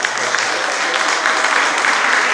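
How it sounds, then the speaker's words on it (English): Audience applause at a Yoruba Day 2018 community event, a steady wash of clapping from a crowd, moderately loud and continuous for a couple of seconds with a voice faintly present. "Another round of applause for the Mayor of Yarra City of Yarra Council"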